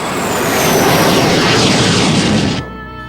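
Fighter aircraft of an escort squadron launching in the Macross anime, a loud roaring jet rush that swells and holds, then cuts off abruptly near the end.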